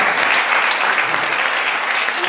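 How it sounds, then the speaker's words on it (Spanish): A church congregation at a Sunday sermon claps in a dense, continuous burst of applause that sounds loud and close for its brief length. "Aplauda a Jesucristo"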